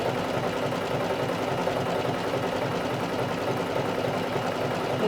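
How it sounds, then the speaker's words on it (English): A sewing machine stitches a quarter-inch seam along the short end of a fabric piece, giving a steady, close, continuous whirring hum with fast regular needle pulses that does not pause. "we're going to sew all along that short end with 1/4 of an inch seam allowance."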